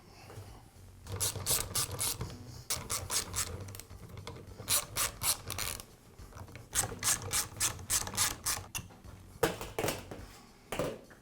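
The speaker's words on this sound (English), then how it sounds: "I'll begin by removing the nail gun's cap." Cap of a Bostitch roofing nail gun being removed, heard as repeated bursts of close ratcheting, scraping clicks in quick rhythmic runs with short pauses between them.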